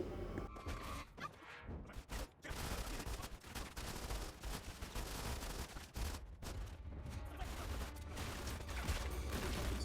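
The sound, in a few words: gunfire in the video game Modern Combat 5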